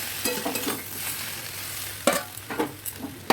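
Curry simmering in a pan with salt, turmeric, ginger paste, cumin-coriander paste and green chili, giving a soft sizzle under a few scraping stirs, with a brief cluster of louder stirring clatter near the end.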